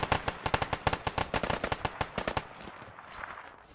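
Rapid automatic gunfire in the military shooter game Squad, a loud, steady stream of about two dozen close shots over two and a half seconds, then a fading echo and rumble.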